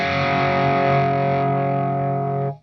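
Electric guitar played through a SMIRMOOR SAULE RAT-style distortion pedal into a clean amp, a thick sustained distorted chord ringing steadily for over two seconds before being cut off abruptly.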